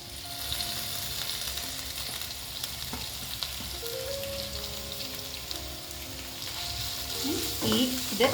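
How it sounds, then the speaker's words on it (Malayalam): Chopped onions and green chillies sautéing in oil for chicken thoran, a steady close sizzle and crackle throughout, with brief clinks of a utensil stirring the pan near the end. "ഇതിൽ എണ്ണയിൽ കിടന്ന് നല്ലതായിട്ട് വഴണ്ട് വരണം"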